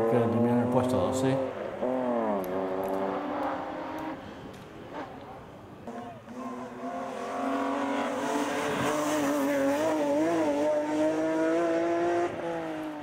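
A BMW M3 race car climbs a hill course, its engine revving hard through rising and falling gear changes, loud and close at first, dipping, then surging again, with a commentator talking over it.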